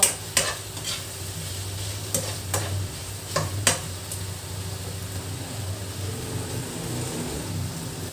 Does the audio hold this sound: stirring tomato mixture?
yes